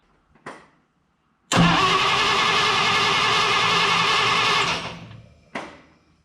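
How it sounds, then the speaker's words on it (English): A car engine converted from 6-volt to 12-volt cranks fast and briefly, catches, then runs loud and steady for a few seconds before winding down, with short clicks before and after. "it cranks over fast. That's what this sounds like now"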